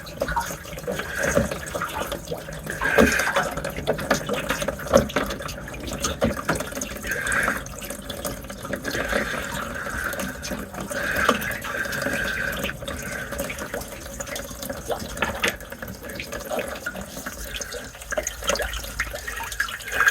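Seawater runs into a boat's bilge as a continuous trickling and splashing flow of moderate loudness, with small irregular gurgles and knocks throughout.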